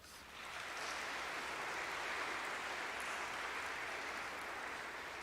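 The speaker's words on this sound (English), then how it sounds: "give those people a great big round of applause" A graduation audience at a law school ceremony breaks into sustained applause, a dense, even wash of many hands clapping that swells in quickly and holds steady, heard from a distance at modest volume.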